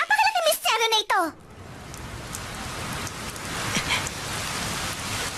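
Steady rain falls in an animated scene, a soft continuous patter that follows a short burst of voices at the start and carries on alone.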